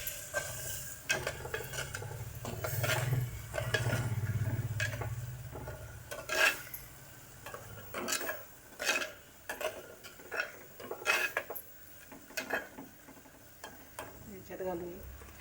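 Egg bhurji masala mixture is stirred in a pan with repeated scraping, clattering spoon strokes against the metal. The strokes come in irregular bursts, close and fairly loud.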